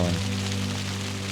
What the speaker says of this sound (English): there's another thunderstorm and it's hailing